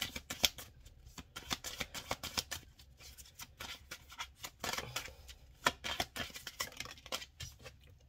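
Tarot cards shuffled for a reading, with rapid, uneven bursts of close riffling and flicking that continue throughout and have no talk over them.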